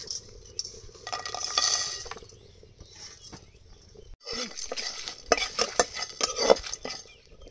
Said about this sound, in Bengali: শুকনো খোলায় এবার কিছু মশলা ভেজে নেব